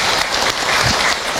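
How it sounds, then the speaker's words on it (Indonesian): A seated audience at an Islamic religious talk bursts into a brief, dense round of clapping that fills the whole moment, close and loud. "Tepuk tangan untuk kita semua."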